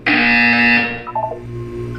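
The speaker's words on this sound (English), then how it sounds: "You will hear a buzzer." A harsh electronic buzzer from the video game Portal 2 blares loudly for nearly a second, then drops away into softer wavering electronic tones.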